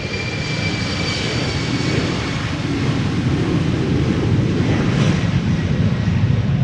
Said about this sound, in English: This is KLM flight 1233 to Göteborg. Embraer 190.